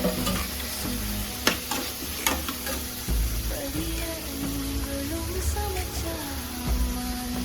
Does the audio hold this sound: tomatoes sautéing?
yes